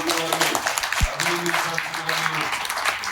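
Crowd clapping at the public launch of a welfare scheme for disabled people in Chilakaluripet, with a steady wash of applause running under loud voices and a speaker over a PA system.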